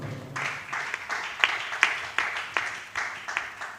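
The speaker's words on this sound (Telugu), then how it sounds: "భక్తి కలిగిన వాళ్ళు కొట్టండి చప్పట్లో." A church congregation claps together in response to the pastor, a loose run of sharp, fairly even claps swelling and fading across a few seconds, with no talk over it.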